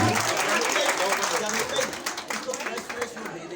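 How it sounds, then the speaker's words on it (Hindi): An audience applauds at an indoor event, producing a dense clapping wash that starts loud and gradually thins out, with a voice speaking over it. "आपकी खूबसूरत तालियां होनी चाहिए"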